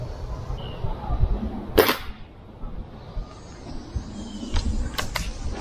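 A Gamo Varmint air rifle fires a single sharp, close crack during target shooting, followed by quiet ambient noise and a couple of faint mechanical clicks.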